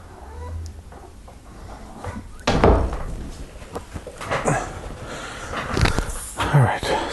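A house cat meows nearby, wanting to come in while a Lego set is being built at a table, its cries mixed with door or cupboard knocks and rustling under nearby talk.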